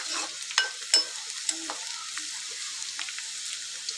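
Sliced onions and a green chilli fry in oil for a cauliflower dish, giving a soft, steady sizzle close by, with two clear clacks of a spoon stirring the pan early on and lighter scrapes after.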